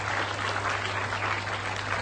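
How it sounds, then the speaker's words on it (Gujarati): Steady applause from an audience at a Gujarati speech event, honouring the competition participants, a dense, even wash of clapping over a low constant hum throughout. "એક વાર તમારા બધા માટે તાળી"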